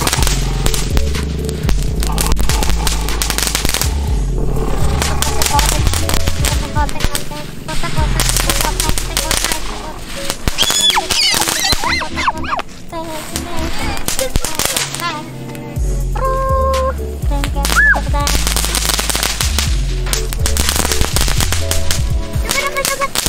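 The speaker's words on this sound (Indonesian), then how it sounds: "Sekarang petasan yang telur dino." Dino egg firecrackers go off in a long, loud barrage of rapid cracks and bangs, the bursts coming densely with a few brief lulls over more than twenty seconds.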